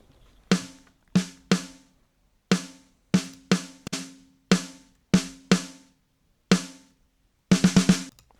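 Pop punk drums in Logic with a Pultec EQ boosting 8K and drive turned fully up, sounding as sparse punchy hits spaced apart with silence between, ending in a quick run of several strikes.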